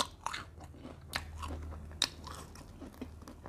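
Close, crisp crunches of someone biting into and chewing battered deep-fried durian with a crunchy coating, a few sharp bites followed by steady chewing with no talking.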